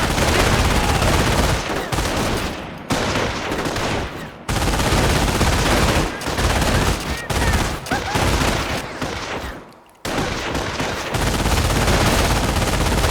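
Squad gunfire from Company of Heroes soldiers attacking enemy troops: dense, continuous bursts of rifle and machine-gun fire with brief lulls, loud and close, overlapping battle noise.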